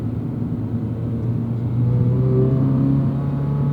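Toyota GR86 engine revving while the car is driven, a steady cabin-heard rumble with a rising, sustained engine tone and no talking.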